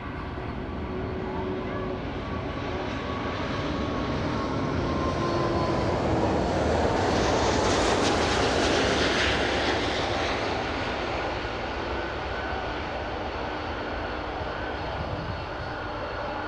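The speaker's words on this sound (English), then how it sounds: "Lufthansa, Airbus 340." A Lufthansa Airbus A340 airliner roars past at Miami airport. Its loud, broad jet-engine noise swells to a peak midway and then slowly fades, staying continuous throughout.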